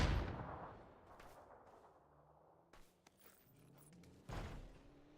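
In a PUBG esports match, a grenade detonates with a loud opening boom that fades, followed by faint distant gunshots and a second dull blast near the end, with no voices.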